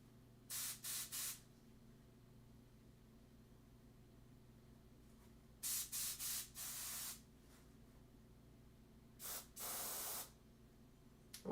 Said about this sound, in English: if you want to paint large surfaces, Gundam marker airbrush is the way to go